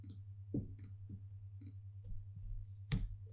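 A few sharp mouse clicks on a web page link, close and fairly quiet, spaced irregularly over a steady low electrical hum.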